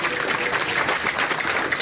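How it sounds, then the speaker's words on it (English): An audience claps for a panel at the close of a presentation at a political gathering, a dense, steady wash of many hands at moderate distance with no pauses. "I will ask each of us to clap for our able panel."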